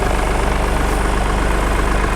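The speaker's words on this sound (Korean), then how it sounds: "엔진 소리 일정하네요." Volkswagen Polo 1.4 TDI R-Line, fifth generation, with its diesel engine idling steadily, a close, even low rumble with a regular pulsing beat and no talk.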